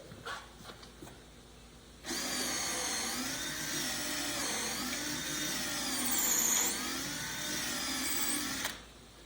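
A power drill bores holes for the seat hangers of a Freedom 17 canoe in a workshop. It whines close and steady for about six seconds, its pitch wavering slightly, after a few quiet taps.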